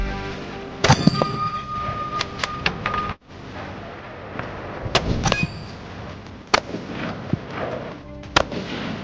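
Shots from a Ruger American Gen 2 .308 rifle are followed by metallic clangs of a steel target hit at 300 yards; several sharp reports and ringing impacts are spaced across the stretch, outdoors and fairly loud.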